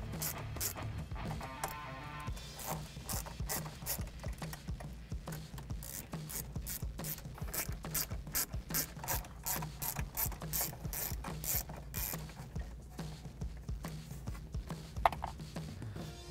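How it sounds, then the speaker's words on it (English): A hand ratchet fitted with an extension backs out 7mm screws from a car dashboard, rapid close clicking of the pawl in steady bursts over a quiet background, no speech. "These are also going to be 7mm, so you can use the same ratchet, just add an extension to it"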